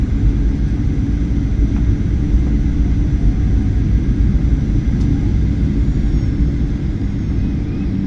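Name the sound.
Ryanair plane landing at Trieste airport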